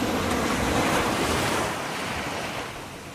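Ocean waves wash and roar in a video game beach scene, a loud broad surf rush mixed with wind that swells early and then gradually fades over a few seconds.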